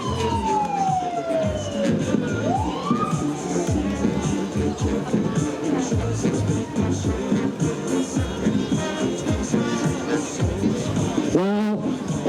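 Wailing fire, police and ambulance sirens rise and fall over a loud, busy mix of traffic and crowd noise at a Santa parade, with a siren sweeping up close near the end.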